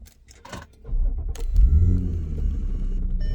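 A car starts up, with a few mechanical clicks and a whir, then the engine catches into a steady, close, low idle rumble that carries on alone to the end.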